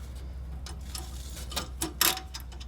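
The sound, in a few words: tightening bumper hardware with 7/16 wrench and Allen key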